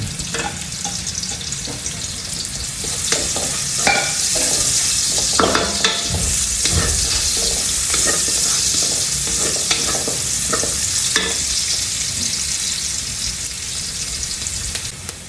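Garlic and onion sauté in a hot pan for chicken pastel, a steady loud sizzle with frequent stirring and scraping clatters throughout, no talking.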